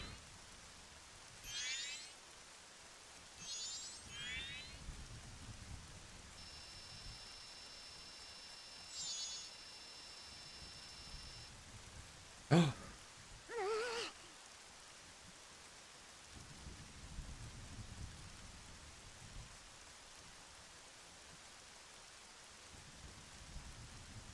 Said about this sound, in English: It was a rainy day in Clocktown.